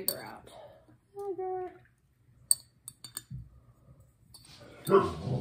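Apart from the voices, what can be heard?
dog barking at people passing on the sidewalk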